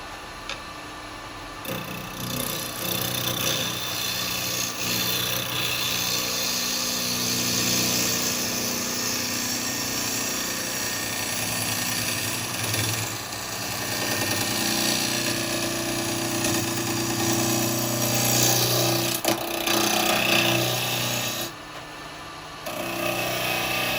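A wood lathe spins up to speed while a 9mm box hollower cuts into the turning workpiece, giving a steady, loud mechanical whir with ticking and scraping texture that runs continuously, easing briefly near the end.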